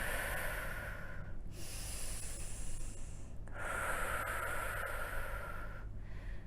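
A person breathing during a guided breathing practice session: long, close, airy breaths, three or so drawn-out hissing inhales and exhales separated by brief quiet gaps, faint and alone with no talking.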